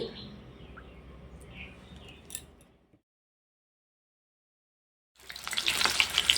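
Potatoes sizzling in hot oil, a steady soft crackle that drops into silence for a couple of seconds, then returns as a louder, brighter spitting sizzle once more potatoes hit the oil.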